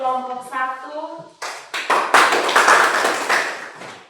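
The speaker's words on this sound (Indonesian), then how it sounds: "tepuk tangan untuk kelompok 1" A voice speaks briefly, then a class group bursts into hands clapping for a presenting group, a steady patter of applause that stays close and fairly loud.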